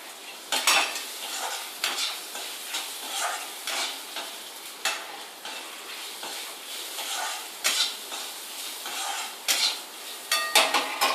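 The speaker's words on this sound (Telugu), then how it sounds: "స్పూన్ ఉప్పు వేసి కలపాలి" A spoon stirs salt into a poha and puffed rice snack mix for chuduva, producing repeated close scraping and clinking strokes against the pan, with a light rustle of the dry flakes between strokes.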